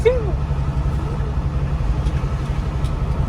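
A steady low roar of rushing air and road rumble fills the cab of a moving 10-wheel truck with trailer, constant and loud without letup.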